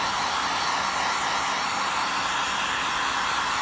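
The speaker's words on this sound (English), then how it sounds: "I heat it up with my heat gun" A heat gun warming 3M adhesive tape on a side panel, blowing as a loud, steady, unbroken airy roar close by that runs the whole time with no talking.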